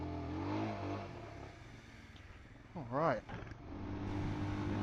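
A Royal Enfield Scram 411 motorcycle engine idles close by, then gives one sharp rising rev and drops back to a steady rumble, with brief speech near the start.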